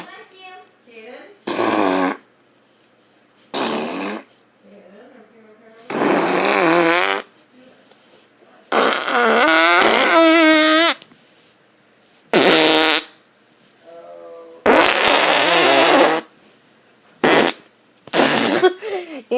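Children blow loud, close mouth fart noises, imitating flatulence with about ten sputtering, buzzing bursts of varying length separated by short quiet gaps.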